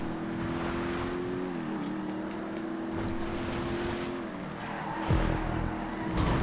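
A Bullet sports car's engine in GTA 5 event racing drones at a steady pitch that dips briefly and holds, then shifts near the end with a louder burst of tire or impact noise.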